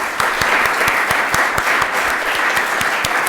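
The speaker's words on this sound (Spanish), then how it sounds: "Pequeño aplauso." Small round of audience applause at a hospital science and innovation conference, steady and fairly close, with individual claps sharp and evenly spaced throughout, no talking over it.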